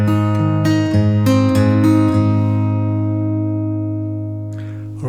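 Acoustic guitar plays the second half of the opening phrase of a song solo, with a quick run of plucked notes and slides that settles into a long ringing chord that slowly decays.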